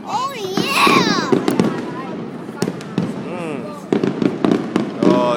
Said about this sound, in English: there's so many fireworks